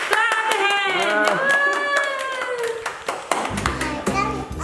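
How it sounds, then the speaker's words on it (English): Hands clapping at a child's birthday party, a short burst of claps near the end following children and adults singing and talking loudly nearby. "Clap the hand."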